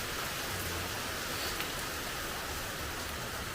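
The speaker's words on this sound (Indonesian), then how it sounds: "Ini alhamdulillah hari ini lagi hujan" Rain falls steadily in a durian garden, an even, soft wash of drops on surfaces lasting throughout with no talk.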